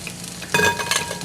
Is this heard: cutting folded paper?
no